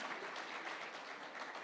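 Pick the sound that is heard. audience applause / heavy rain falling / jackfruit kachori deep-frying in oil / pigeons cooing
audience applause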